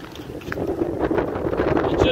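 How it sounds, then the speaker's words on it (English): Strong gusts buffet the microphone outdoors on a windy day, a loud rumbling roar that swells and wavers throughout, with people talking over it. "So windy."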